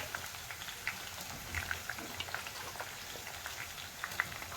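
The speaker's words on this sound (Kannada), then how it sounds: "ಇದಕ್ಕೆ ಎಲ್ಲ ಆನಿಯನ್ ಇದ್ರೊಳಗೆ ಹಾಕ್ಕೊಂಡು ಫ್ರೈ ಮಾಡೋದ್ರಿ." Sliced onions frying in oil for egg dum biryani, a quiet crackling sizzle with scattered small pops and spits, close but low in level, no voices.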